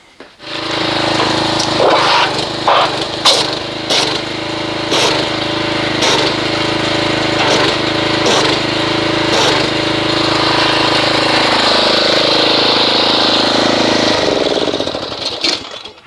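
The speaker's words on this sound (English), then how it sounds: "So let's agitate this with the pressure washer and see what kind of foamage we get." A pressure washer runs loud and steady for about fifteen seconds while agitating car wash foam, a constant engine drone broken by several sharp clacks near the start.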